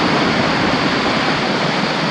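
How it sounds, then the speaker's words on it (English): Water pours over a lake spillway waterfall into a creek at Lake Juniper in Cheraw State Park, South Carolina, making a steady, loud, close-up roar with no break. "you can see the water coming over the falls of the spillway here and goes down through this creek"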